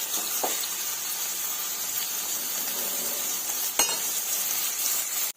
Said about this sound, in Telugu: ఇవి కూడా ఒకసారి కలిపేసుకొని ఫ్రై చేసుకున్నామండి బాగా